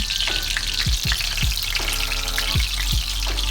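Breaded pork schnitzel deep-fries in oil in a pan, a steady loud sizzle and bubbling hiss with a few low knocks and clatters of handling, close up and without speech.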